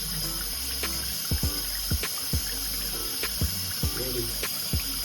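Water trickles and runs steadily while hair brushes are rinsed, with soft splashes and several sharp clicks and taps as bristles hit the sink or water.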